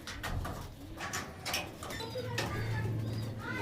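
Pigeons in a loft, soft cooing under a steady rustle with occasional wing flaps and light clatter, heard up close at low volume.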